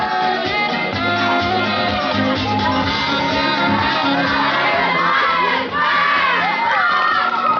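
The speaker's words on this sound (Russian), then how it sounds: "Бурные аплодисменты" A crowd at a cross-country race award ceremony cheers, whoops and shouts loudly, with high children's voices mixed into a sustained roar of applause and excitement.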